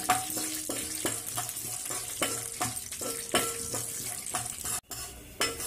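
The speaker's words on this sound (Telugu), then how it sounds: "ఇది నిదానంగా పోపుని సిమ్లో పెట్టి వేయించుకోవాలి. చక్కగా దోరగా వచ్చే వరకు వేయించుకోవాలి." Peanuts, chana dal and mustard seeds frying in oil on low heat, a close steady sizzle with regular scraping strokes of a utensil against the pan.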